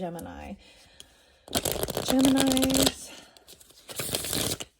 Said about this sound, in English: So we're going to shuffle these cards, and I'm going to split it into 2 piles.